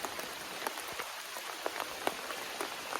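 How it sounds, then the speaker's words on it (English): Heavy rain pours in the Kilimanjaro rainforest, a steady dense hiss with scattered sharper drops landing on a nearby surface, continuous and fairly close with no voices. "it's pouring rain"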